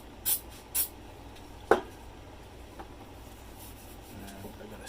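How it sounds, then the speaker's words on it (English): Two quick hissing spritzes from an aerosol can of super glue activator, then a single sharp tap and a quiet room. "Spray on a little of this activator."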